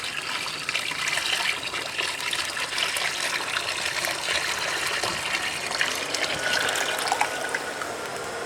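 Water pours steadily into the water pan of a Weber Smokey Mountain smoker, a continuous close splashing gush with no talk over it.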